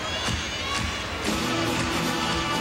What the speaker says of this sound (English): She's got the crowd clapping in the background